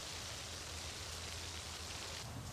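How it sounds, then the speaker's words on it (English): Steady rain falls outdoors near a boat, a continuous soft hiss with a low rumble underneath, even and unbroken throughout, with no voices. "Oh, no, it's raining."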